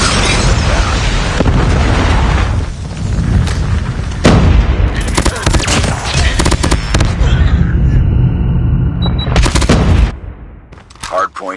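Call of Duty Mobile Hardpoint match: a dense barrage of Predator missile blasts, booming explosions and rapid gunfire rolls on loudly for about ten seconds before dropping to quieter, scattered shots.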